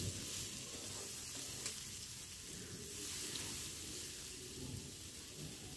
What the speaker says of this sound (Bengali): আলু, উচ্ছে আর ডাঁটা সব কিছুকে একসঙ্গে বেশ খানিকক্ষণ ধরে ভাজবো।